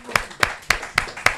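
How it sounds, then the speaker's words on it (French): An audience at a book talk claps for an author in a quick run of about five crisp, evenly spaced claps, close and moderately loud. "Non, on va t'applaudir."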